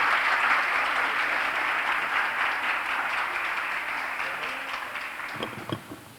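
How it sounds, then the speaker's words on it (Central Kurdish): A crowd applauds warmly to welcome a student at a school event, with steady dense clapping that gradually fades toward the end, finishing in a few scattered claps. "قوتابی سێیەممان کاکە سوهەیب نەوزاد بە چەپڵەیەکی قایم پێشوازی لێ دەکەین"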